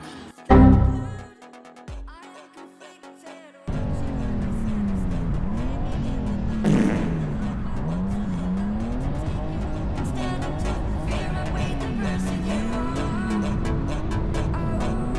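A turbo BMW drift car at a drift competition screams at high revs, with a short burst and a pause before a sustained, wavering engine note as the throttle rises and falls, over squealing tires.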